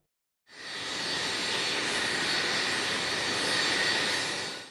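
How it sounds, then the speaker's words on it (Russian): A passenger airplane from Tehran lands at Grozny-Severny international airport, giving a loud, steady jet roar that starts abruptly and holds at an even level throughout, with no voices. "приземлился самолет из Тегерана"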